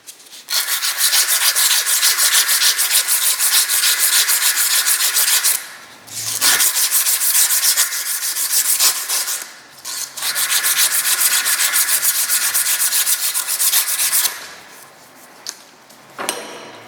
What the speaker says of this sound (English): I gotta clean this lathe carefully now